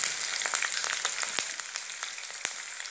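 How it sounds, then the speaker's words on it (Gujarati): Chopped green chillies and mustard seeds sizzle in hot oil in a pan: a steady, close hiss runs throughout, with frequent sharp pops and crackles scattered over it and no voices. "તેલ ગરમ થઈ ગયું છે, તો આપણે એમાં સૌથી પહેલાં લીલા મરચાં નાખીશું જે કાપેલા છે."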